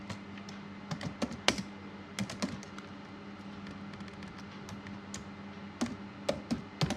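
Close, clear clatter of a computer keyboard as CSS code is typed, with quick clusters of keystrokes separated by short pauses and a few sharper, louder taps.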